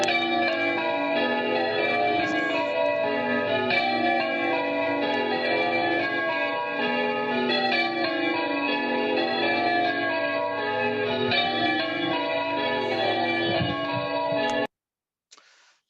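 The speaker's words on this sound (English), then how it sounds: "I'm just going to play you a little bit of music from the bells, which are quite famous, not because they're particularly good," The bells of Cowley church in the Cotswolds are rung in a continuous peal, overlapping metallic strikes ringing richly for about fifteen seconds before stopping abruptly, leaving near silence.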